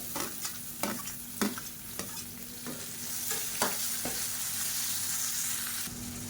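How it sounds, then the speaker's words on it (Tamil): Chopped onion and green chillies sauté in hot oil, with a spoon scraping the pan in several sharp strokes over a continuous sizzle that rises toward the end. "பச்சை மிளகாய் நல்லா வதங்கிருச்சு. பொடியாக கட் பண்ண வெங்காயம் சேர்த்துக்கலாம், ஒரு கைப்பிடி அளவுக்கு."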